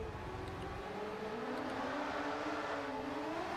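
A race car engine drones steadily at speed in Gran Turismo 7, a continuous mid-level whirring hum with slight pitch shifts and no talk over it.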